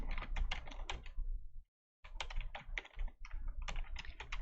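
Rapid typing on a computer keyboard while entering data into an Excel spreadsheet, a dense run of clicking keystrokes with a brief pause midway, close and clear with no talk.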